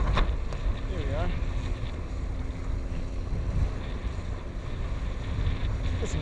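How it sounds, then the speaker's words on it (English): Steady wind rushes across the microphone while windsurfing on a Bic ACE-TECH SUP board with a 5.5 meter sail, a continuous broadband roar that stays loud throughout, with a faint voice briefly audible near the start. "The wind really pulls on this."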